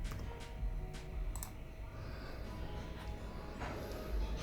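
A computer keyboard being typed on nearby in short bursts of soft, quick key clicks with small pauses, fairly faint against a low steady room hum, no talking.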